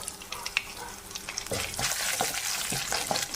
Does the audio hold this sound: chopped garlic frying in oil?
yes